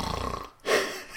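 A man imitates a snore with his voice: one short, raspy snort-like rumble, heard close after a brief pause.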